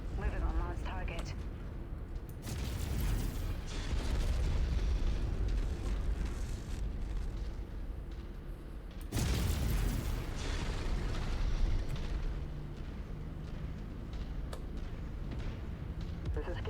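A destroyed enemy vehicle blows up in the MechWarrior 5 mech combat game, loud booming blasts with a fresh burst midway, amid rumbling battle noise and radio voices talking.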